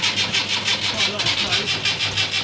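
A Land Rover Series III diesel engine is started for the first time after restoration, with a weak battery, and gives a rhythmic, pulsing mid-pitched churn close by while a person talks over it.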